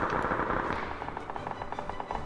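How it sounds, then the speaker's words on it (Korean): Rapid gunfire from above in a PUBG battle, heard as a dense crackle of bursts and single shots that fills the whole stretch at moderate loudness, with no speech over it. "위에서 총소리가 막나 지금"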